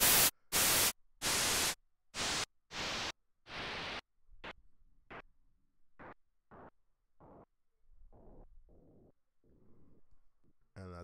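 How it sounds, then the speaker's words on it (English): Bursts of hissing noise with a sweeping phaser effect, loud blasts at first, then shorter, quieter pulses with gaps of silence between. "depending on where I catch this phaser in its phase, it's going to sound different"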